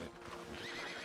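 Horse whinnying in the open-world western game Red Dead Redemption 2, a short, close, fairly loud neigh with a rising then wavering tone, heard alone with no talk.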